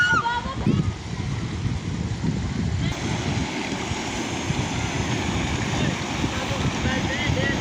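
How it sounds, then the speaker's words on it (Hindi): Water surges into a dry canal, a steady broadband rush of flowing water with splashing and gritty turbulence, continuous and fairly close, with sand sliding and people talking faintly in the background. "ये देखें यहाँ पे पानी पहुँच चुका है"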